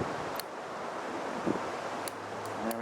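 Wind blowing outdoors on a windy day, a steady broad rushing hiss buffeting close to the microphone, with faint clicks and rustles over it.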